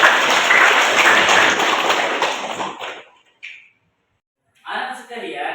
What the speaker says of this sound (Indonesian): Berikan aplaus yang keras.